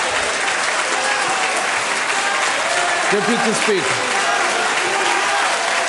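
Members of parliament applaud in a chamber during a sitting on a motion to impeach Zuma, a steady wash of clapping running the whole time beneath raised voices and shouted interjections.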